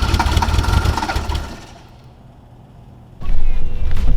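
A 1979 VW Rabbit diesel engine cold-starting: loud cranking and clattering for about a second and a half, a near-silent gap, then the engine catching and running with a loud, steady rumble.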